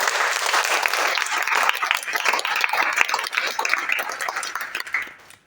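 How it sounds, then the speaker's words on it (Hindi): Audience applause at a farewell ceremony in a university commerce department: dense, sustained clapping throughout, fairly close and steady, tapering off abruptly at the end. "एक बार तालियों की गड़गड़ाहट।"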